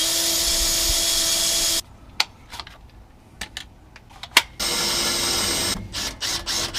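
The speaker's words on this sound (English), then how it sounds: "I'm going to use my drill here. Put a little pilot hole in the exhaust" Power drill boring a pilot hole into a car exhaust tip, a steady high whine for about two seconds, a pause with clicks and taps, then more whirring bursts and short stuttering pulses up close.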